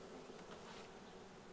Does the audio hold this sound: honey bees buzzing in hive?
yes